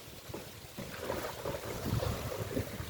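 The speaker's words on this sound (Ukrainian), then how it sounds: "Невеличка хвиля." Small waves lapping on open lake water at Lake Svitiaz on a rainy day, with gusty wind rumbling across the microphone, a moderate, uneven wash without voices.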